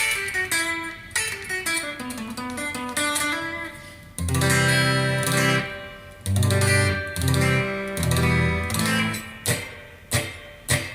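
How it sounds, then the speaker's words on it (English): Clean electric guitar plays a melodic line, then strummed chords and single plucked notes ring out with some sustain, no voices present. "So you can hear the clean channel a little bit right now."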